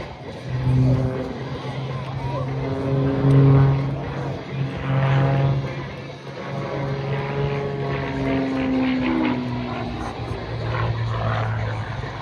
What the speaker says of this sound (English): This aircraft flat out rips up the sky.